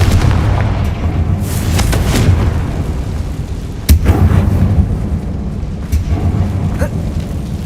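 Confringo fire spell explosions in the Hogwarts Legacy video game, loud rumbling booms inside a mine that looks like a tomb, with a sharp blast near the middle over a continuous low roar of game sound.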